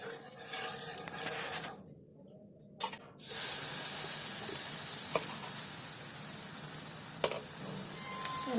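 Besan batter sizzles in oil on a hot griddle with a constant crackling hiss, broken by a short quiet gap and a few sharp clicks and scrapes.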